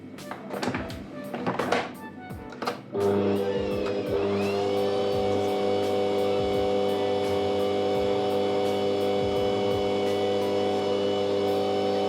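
An electric mixer beats cake batter at low speed, starting after a few clatters and then holding a steady motor whine and hum for the rest of the clip.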